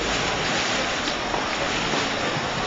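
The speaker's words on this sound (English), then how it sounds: "Look at those waves." Rough ocean waves wash and surge on open water, with a steady broadband roar and some wind buffeting the microphone throughout.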